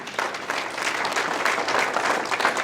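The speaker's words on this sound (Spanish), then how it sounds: "Denle un aplauso a nuestro Dios." Steady applause from a church congregation, dense clapping throughout with no pauses, fairly loud and filling the space.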